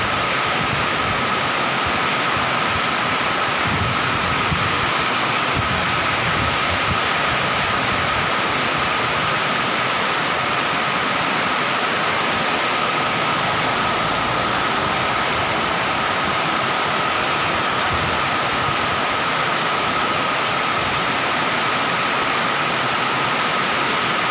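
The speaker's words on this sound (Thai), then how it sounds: "ผมว่าฝนตกอ่ะ" Heavy sudden rain pours down in a dense, constant roar that holds steady and loud for over twenty seconds, with no break or voice in it.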